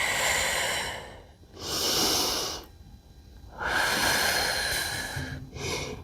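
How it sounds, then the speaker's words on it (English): Deep, slow breaths during a yoga-inspired calisthenics stretch, with three long, close and fairly loud airy inhales and exhales separated by short quiet pauses. "Breathe into the stretch."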